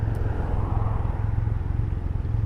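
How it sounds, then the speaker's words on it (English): Steady low rumble of road traffic with vehicles approaching, heard from a Can-Am Ryker three-wheeled motorcycle; a constant engine drone and broadband road noise continue throughout with no distinct passes. "Oh, I have 4 cars coming."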